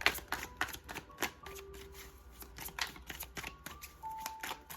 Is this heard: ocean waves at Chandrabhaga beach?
no